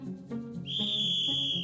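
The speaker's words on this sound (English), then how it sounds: "For example, the sound of this whistle" High-pitched whistle, a single sustained shrill tone that begins about a third of the way in and holds steady and clear above a soft background of low music.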